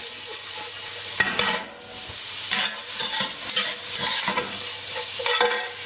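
Garlic frying in oil in a pan on low heat for mushroom risotto, a steady close sizzle broken by several stirring scrapes and pan knocks, with no talking.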